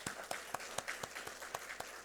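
A church congregation applauds during a Sunday morning service, bursts of clapping rising and falling in quick claps at moderate distance with no one talking over it.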